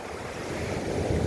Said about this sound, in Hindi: ये देखो पानी ऊपर उठा है, ये ज्वार कहलाया।